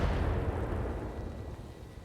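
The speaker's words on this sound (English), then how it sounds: "The Boar's Head, of course, can go ahead and fire the sniper artillery." Sniper artillery fires in the mech game RogueTech. A heavy, low, rumbling boom rolls out and slowly fades over two seconds. The blast is fairly quiet and there is no talk.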